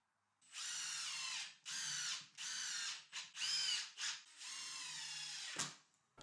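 A power drill drives screws into a wooden garden bench, making several whirring bursts of a second or so each with brief pauses between them, then one long run ending in a sharp clack. The drill is close and clear, and no one talks.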